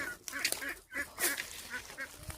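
Ducks being herded let out scattered nasal honks and quacks at moderate volume, broken by short pauses, with faint background noise.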